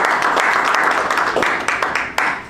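An audience at an alumni convention gives a brief, lively round of clapping, dense at first and thinning into a few scattered claps near the end.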